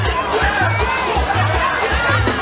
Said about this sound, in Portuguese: aplauso para o Pirata